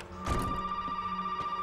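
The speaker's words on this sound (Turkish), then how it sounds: "Telefon." A telephone rings steadily inside the horror game Resident Evil 7, a clear sustained tone under a couple of soft thumps, with no talking.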